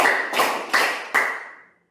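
Hand claps from a classroom clapping game: three or four crisp, evenly spaced claps about half a second apart, close and clear, with each ringing briefly in the room before fading to silence.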